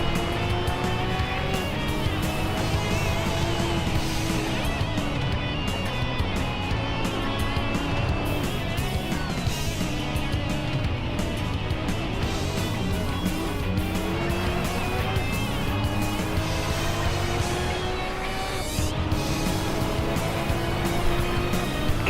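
Lamborghini race cars on a racing circuit, engines roaring loudly and continuously with rising and falling pitch as they accelerate, shift and pass, close and dense throughout.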